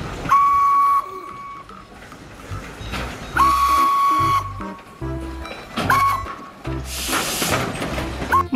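Toy Thomas the Tank Engine train giving off repeated electronic whistle toots and chugging rail sounds in short bursts, loud and close, with brief gaps between each burst.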